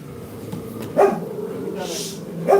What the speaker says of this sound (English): we might have a dog bark